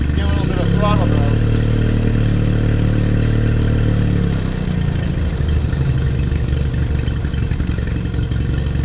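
A Mercury 9.9 outboard motor under carburetor work runs with a bit of throttle, giving a loud, steady, close engine drone that shifts and roughens about halfway through, with voices in the background.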